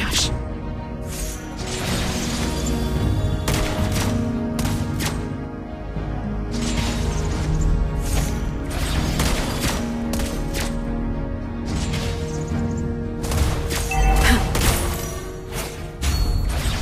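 Lesley's gunshots in the Mobile Legends game crack out loud and close in rapid bursts and single shots, over battle effects and occasional short in-game voice lines.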